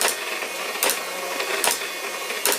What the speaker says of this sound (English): this dot matrix printer, I think, is a sound effect